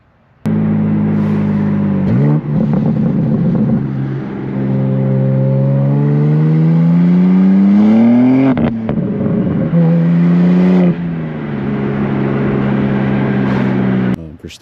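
BMW M2 exhaust under acceleration, a loud, deep engine note climbing in pitch through the revs, dipping at gear changes, then rising again before settling, heard from inside the car with some speech in the background.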